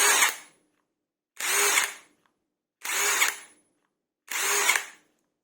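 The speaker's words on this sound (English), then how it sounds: "the machine rotates at full power when it senses a resistance" A Parkside Performance prototype 1/2-inch cordless impact wrench spins up in four separate loud bursts of about a second each, with short silent pauses between them, close and with no talk.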